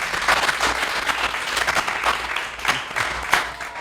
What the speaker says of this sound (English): So can we get a round of applause?